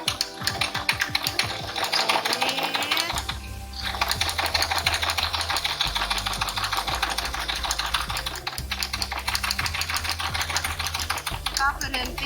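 A sewing machine stitches a pocket in a fast, rhythmic mechanical clatter that runs in a few bursts with short pauses, close and loud.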